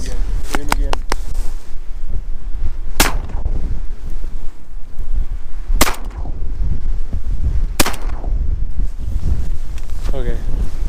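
Shotgun fire at mallard ducks over a farm pond, several sharp loud blasts spaced a few seconds apart with a quick double at the start, over steady wind noise and hunters talking.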